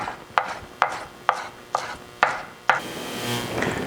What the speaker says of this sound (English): I'm just going to coarse chop it.